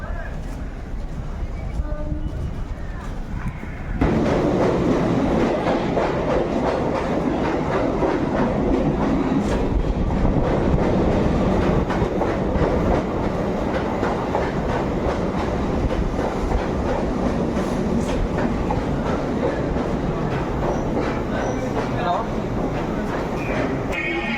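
A train at Chennai Egmore railway station rumbles steadily with a rhythmic clickety-clack of wheels on rails, loud and close, after a quieter opening few seconds, with voices murmuring faintly beneath.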